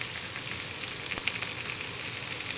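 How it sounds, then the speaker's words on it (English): Pork sizzling in hot oil in a pan, a steady close crackling fry with fine spattering pops, heard alone without voices. "Just going to lay them in the pan in the oil, and I'm not going to move them"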